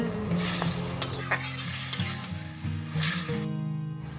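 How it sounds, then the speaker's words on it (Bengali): Spice paste with a splash of water frying in a pan while being stirred, a loud steady sizzle broken by rhythmic scrapes and knocks of the spoon, no talking. "এবার আবারও সমস্ত কিছু খুব ভালো করে নেড়ে নিচ্ছি"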